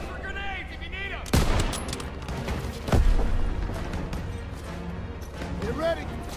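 Call of Duty WWII battle: sharp gunshots and bursts of rifle and machine-gun fire crack amid loud combat noise, with voices shouting over the firing throughout.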